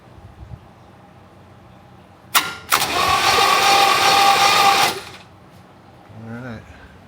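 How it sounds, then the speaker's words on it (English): A new starter cranks the engine of a 1967 Camaro with its spark plugs out, giving two quick bumps and then a steady whirring crank of about two seconds. It stops abruptly, and a voice follows. "more cranking with the plugs out"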